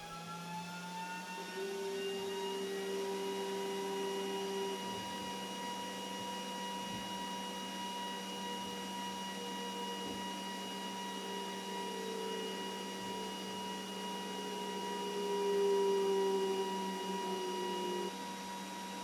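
A Glowforge laser cutter slicing plywood, sped up, gives a quiet, steady mechanical whir with layered tones that shift and glide as the head moves, and no voices.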